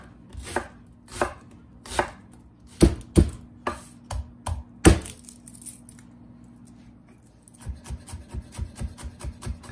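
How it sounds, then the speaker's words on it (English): A knife chops ingredients for lemon-basil risotto on a cutting board, a series of sharp, close knocks, first spaced out and then a quicker even run, with no talk. "Let's chop."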